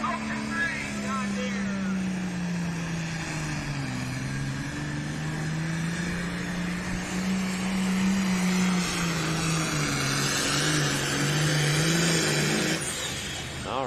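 A John Deere pulling tractor in the Classic Super Class roaring through a pull run at a truck and tractor pull in Wellington, Ohio, a loud sustained engine drone with shifting pitch, while an announcer talks over it.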